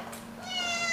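A single short cat meow rises near the end, fairly faint against a quiet background hum.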